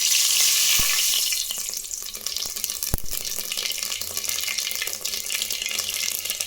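Mustard seeds hit hot ghee and oil in a pressure cooker, giving a loud, close, steady sizzle and spattering hiss with a couple of sharp pops and knocks along the way.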